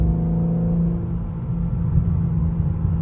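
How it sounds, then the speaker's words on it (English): A BMW M4 with automatic transmission shifts while driving at night, with a steady low engine drone and rumble that dips briefly as a gear changes, close and continuous with no talk. "y'all hear the auto trans. Look how this shit shifts, bro"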